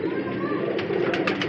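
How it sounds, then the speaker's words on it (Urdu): Pigeon cooing among a flock of pigeons being shown at a loft, a steady low murmur of cooing with brief higher chirps near the end, under nearby voices. "پیپل والا کبوتر بڑا ہی وڈا کبوتر"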